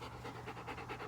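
A retired guide dog pants steadily at close range, quick rhythmic breaths repeating through a short stretch with no talking.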